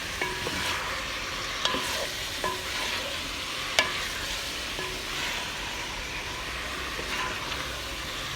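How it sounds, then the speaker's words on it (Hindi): Chicken breast pieces frying in a pan for chicken Manchurian, a steady close sizzle with regular metallic clicks and scrapes from stirring about once a second, and no voices. "आप देख सकते हैं मैं इसको फ्राई कर रही हूँ, इसको अच्छे से भूनेंगे ताकि इसका पूरा कलर चेंज हो जाए"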